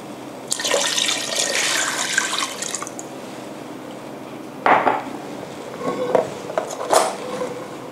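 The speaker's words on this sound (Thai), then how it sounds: "หลังจากนั้นนะคะก็เอาตัวน้ำเนี่ยน้ำเปล่าใส่ลงไปนะคะน้ำเย็นได้นะคะไม่จำเป็นต้องเป็นน้ำร้อน" Plain cold water is poured into a pot holding pork ribs, giving a burst of splashing and rushing water, then quieter gaps broken by a few shorter pours and clinks of the pot.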